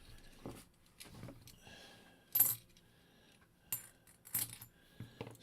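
Half dollar coins drop and clink one after another onto a hard surface, producing bright metallic rings spaced irregularly, close and distinct against near silence.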